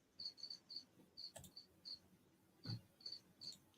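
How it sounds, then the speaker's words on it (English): Crickets chirp indoors in short, evenly spaced bursts, faint and thin, with a couple of soft bumps in between and no talking. "No, they are definitely crickets"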